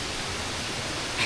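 Rushing water at the Erawan Waterfalls makes a steady, dense hiss that holds at even loudness for just over a second, with no voices.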